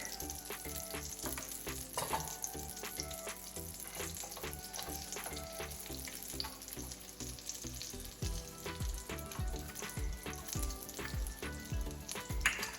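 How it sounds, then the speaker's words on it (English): Garlic, ginger and chopped ingredients sautéing in butter and oil for a chicken and bok choy stir fry, giving a steady, busy sizzle with scattered clinks and stirring knocks throughout, no voices. "We're going to saute for a little while."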